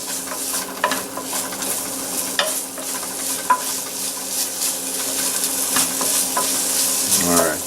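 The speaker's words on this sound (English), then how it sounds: "some of that grease is coming out of the sausage and the fucking bacon" Sausage and bacon fry in a pot with onions as a steady close sizzle, while a utensil stirs them with scraping and occasional clinks against the pot.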